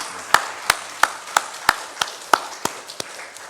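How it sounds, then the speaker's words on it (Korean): A church congregation claps in tight unison, about ten sharp, evenly spaced claps ringing out in a steady rhythm and thinning toward the end. "우리 하나님께 감사하는 마음으로 영광의 박수 올려주면 감사하겠습니다"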